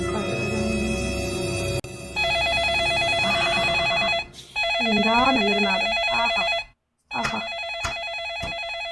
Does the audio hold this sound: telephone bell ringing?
yes